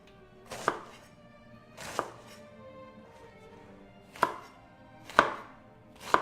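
Green cabbage being chopped with a knife on a cutting board in a home kitchen: five sharp, separate chops at uneven intervals, with quiet pauses between them.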